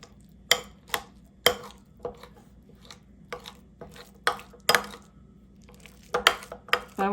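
Hard-boiled eggs and sardine fillets being smashed together by hand for Jamaican stuffed eggs, a series of sharp clinking and scraping knocks against a dish in an irregular rhythm, close and fairly quiet with no talk.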